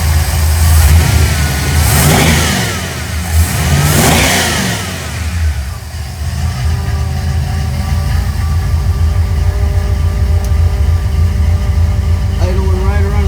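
A car engine, just after a carburetor adjustment, revs loudly twice, then settles into a steady, even idle around 1,000 rpm close by.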